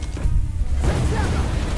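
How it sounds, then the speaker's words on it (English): A big explosion in Call of Duty Black Ops: a single heavy boom that rolls into a sustained low rumble, loud and close, with no speech. "Oh dang, that was a big explosion."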